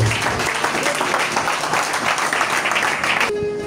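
A church congregation applauds loudly and steadily, the dense clapping filling the space for several seconds before cutting off abruptly near the end.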